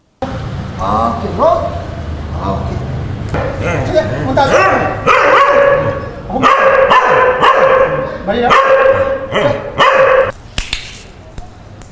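Several dogs at a dog training center that prepares them for dog shows bark repeatedly in bursts, loud and close, with yips and overlapping barks across the whole stretch and voices mixed in underneath.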